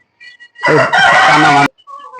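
A rooster on a fancy poultry farm crows once, loud and close, in one long call. Softer clucks and bird calls come before and after it.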